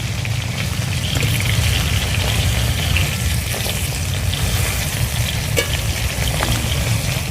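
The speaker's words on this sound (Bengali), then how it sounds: "এবার ওলগুলো ভালো করে ধুয়ে নেব।" Cut pieces of elephant foot yam are washed in water, a continuous loud splashing and sloshing with dense rushing noise throughout, close and without speech.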